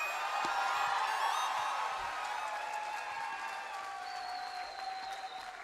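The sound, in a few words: crowd applause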